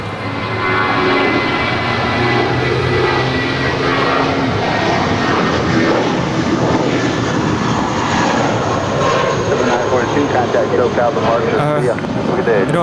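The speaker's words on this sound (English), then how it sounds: "This is Devil with a blue dress on, departing to Reno. It's flight 942, and that's an A320." An Airbus A320 on flight 942 departing Los Angeles International Airport for Reno, its jet engines producing a loud, sustained roar with shifting tonal whine that stays strong across the whole stretch, while people talk over it.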